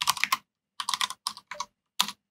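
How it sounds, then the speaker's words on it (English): Computer keyboard typing a short command in a terminal, about five quick bursts of crisp close key clicks separated by brief pauses. "We can type file"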